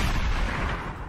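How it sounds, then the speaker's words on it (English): A shotgun blast in the video game Encased, a dense, loud burst of gunfire that fills the whole short moment with a booming roar before easing off slightly, with no voices. "then we just shotgun him down"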